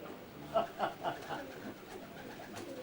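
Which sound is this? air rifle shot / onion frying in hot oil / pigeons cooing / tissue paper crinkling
pigeons cooing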